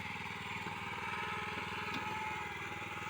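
The small engine of a rice transplanter working a paddy field chugs steadily at close range, a continuous even idle-like putter that holds unchanged throughout with no talk over it.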